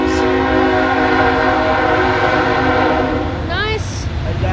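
CSX freight train led by dual ET44C4 tier 4 locomotives rumbles past loud and close, engine drone and rolling noise steady, with a short horn blast near the end.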